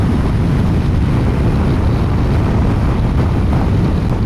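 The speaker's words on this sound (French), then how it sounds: "Allez, petit coup de gaz quand même pour doubler le camion." A Yamaha 900 Diversion motorcycle at highway speed accelerating to pass a truck, with a steady loud roar of engine and heavy wind rush that stays constant throughout and no speech.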